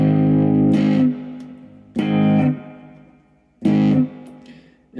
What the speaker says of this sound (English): and then a distortion circuit